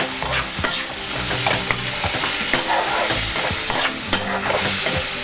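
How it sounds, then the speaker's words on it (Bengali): Tomatoes stirred and fried in a pan for masoor dal tarka, a steady close sizzle broken by repeated spoon scrapes and clacks in an uneven rhythm, with no talking. "এর মধ্যে এবার আমরা দিয়ে দিচ্ছি টমেটোটা দিয়ে আবার একটু নাড়াচাড়া করছি।"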